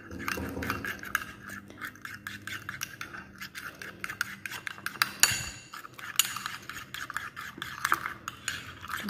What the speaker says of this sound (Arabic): نخلطوا هاد المكونات جيدا.